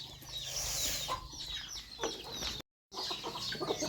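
Several chickens cluck and squawk close by in a busy, continuous chorus, with a brief gap of silence near the end.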